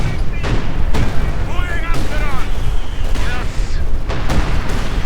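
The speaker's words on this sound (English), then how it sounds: "And an incendiary barrage clears out the pack again." An incendiary artillery barrage in Company of Heroes 2, a dense, continuous wall of booming impacts and crackling fire with overlapping blasts, loud and unbroken throughout.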